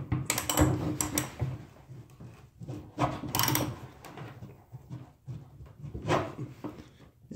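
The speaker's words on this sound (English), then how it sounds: "So I'll now try a tub drain removal nut or bit or whatever that's called in a wrench." A wrench turns a tub drain removal tool in a bathtub drain, giving bursts of metallic scraping and grinding that repeat several times between quieter pauses, close up, with no talking.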